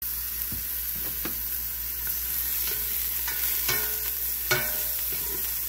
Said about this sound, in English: I put my minced garlic in the pot and I stir fry them.